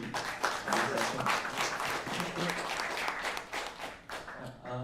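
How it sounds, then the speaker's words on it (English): Audience applause at the close of a conference session on modular blockchains: dense, steady clapping from a crowd that carries on for several seconds, then thins out and fades near the end. "So once again, a big round of applause to Victor G."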